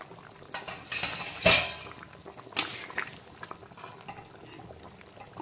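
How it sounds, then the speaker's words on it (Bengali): Lid lifted off a kadai of katla fish curry with potatoes in gravy, a sharp metallic clang followed by a second clink and quieter rattles of cookware, close and fairly soft overall. "তো এখন ঢাকনাটা আমি খুলে দেব।"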